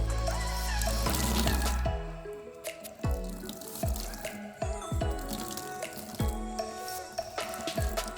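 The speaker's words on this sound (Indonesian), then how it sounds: "Kita akan mulai memeras mengambil cairan isi rumen seperti ini teman-teman." Cow rumen contents are squeezed by hand to draw out liquid, giving close wet dripping and trickling splashes in irregular spurts over a steady background hum, with no talk.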